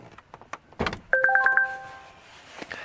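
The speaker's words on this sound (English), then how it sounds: "That's the alarm letting you know that the trunk," A few clicks and thumps, then a Volvo S90's hood-open warning chime beeps five times in quick succession, followed by a faint clunk.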